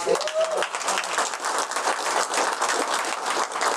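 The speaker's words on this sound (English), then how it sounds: "Let's give these guys a round of applause" An audience at a business panel discussion applauds the panelists, a dense, steady patter of many hands that holds for the whole stretch, with a brief voice heard at the very start.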